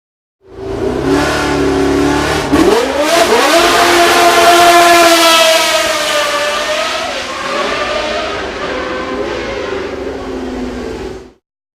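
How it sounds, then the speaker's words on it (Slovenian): A Ford Cosworth DFV Formula One engine in a Lotus 79 revs hard, a loud, close, continuous engine howl that rises sharply in pitch, holds high, then eases slightly before cutting off. "drugi zvok motorja Ford Cosworth DFV je iz tistega Lotusa 79"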